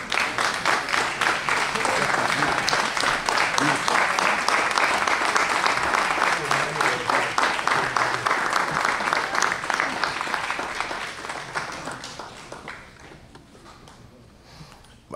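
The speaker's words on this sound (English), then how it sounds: "I believe he deserves another round of applause." Audience at a rabbinical graduation ceremony of the Israelite Board of Rabbis applauding, a dense, loud, steady wash of many clapping hands that slowly fades toward the end.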